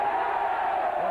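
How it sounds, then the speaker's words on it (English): Partisan rugby league crowd barracking at a Hull versus St Helens match, a dense, steady roar of many voices heard from within the stadium. "Plenty of barracking, as you can hear from this partisan crowd"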